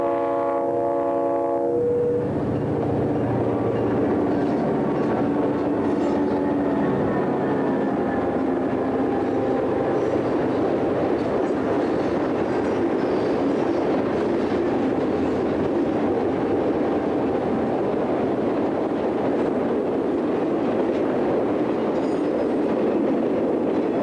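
Three Springfield Terminal SD-26 diesel locomotives haul an eastbound train near Owego, opening with a loud horn blast before a steady, close diesel rumble and rolling rail noise carry on throughout.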